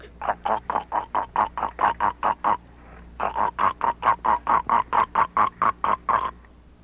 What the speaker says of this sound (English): the eider duck,